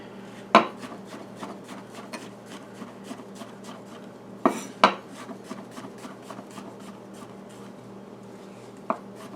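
Knife slicing mushrooms on a wooden cutting board, a quick run of light, evenly spaced taps with a few sharper knocks, close and fairly quiet.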